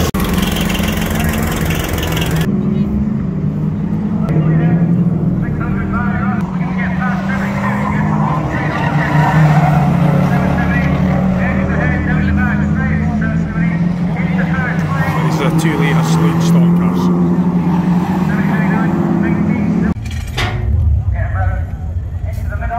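Banger racing cars roar around the track at Crimond in Scotland, a loud continuous drone of engines revving and passing close, with rising and falling pitch over more than twenty seconds.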